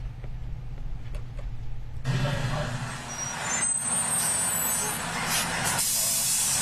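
A fire truck pulls up in the open, recorded on a police body-worn camera, with a loud, steady hiss of air brakes bursting in partway through over a rumbling engine, and faint voices underneath.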